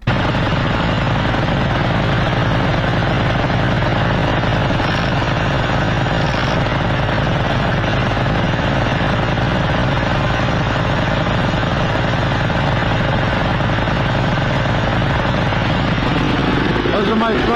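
A GEET fuel-processor engine runs steadily and loudly, a dense continuous drone with a rough, rumbling texture that persists unbroken throughout.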